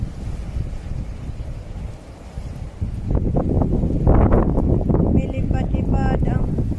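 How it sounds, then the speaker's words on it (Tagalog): Strong gusts of wind in northern Norway buffet the microphone with a broad roaring rush that swells louder after a few seconds and stays heavy to the end. "ang lakas-lakas ng hangin dito"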